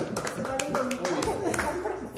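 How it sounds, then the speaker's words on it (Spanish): Brief clapping at a children's Bible training session, a handful of light hand claps in a quick, scattered patter under ongoing talk and a little laughter, close and fairly soft. "Un aplauso."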